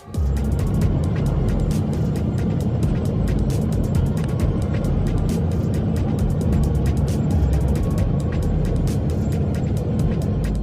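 A burning airplane engine in flight, a loud continuous roar with a steady rumble and dense rapid rattling clicks running throughout, unbroken for about ten seconds.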